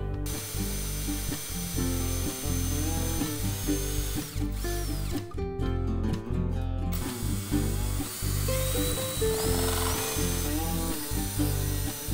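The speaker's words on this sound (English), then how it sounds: "On the top, drill some holes to attach the containers." A power drill whirs in repeated bursts while drilling holes in the top of containers, revving up and cutting out with short pauses between, loud and close, with a ratcheting mechanical edge.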